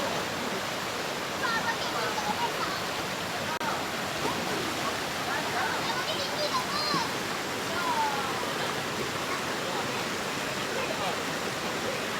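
River water at a riverside campsite rushes steadily, a continuous close hiss of flowing water filling the whole stretch, with faint voices now and then beneath it.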